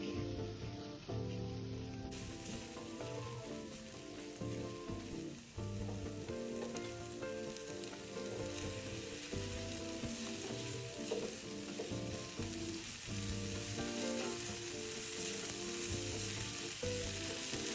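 Char siu stir-fried in a wok with a cornstarch slurry gives a continuous close sizzle, with scraping and clattering from the stirring running steadily throughout and no voices.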